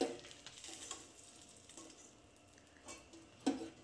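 Small fish finished frying are lifted from a wok of sizzling mustard oil, a soft, low sizzle punctuated by a few scraping and clinking utensil knocks, quiet and close.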